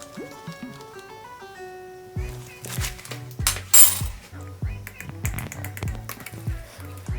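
Metal spoon stirring baking powder into a jackfruit cake batter in a bowl, a run of repeated clinks and scrapes against the bowl after a quiet opening with faint background tones.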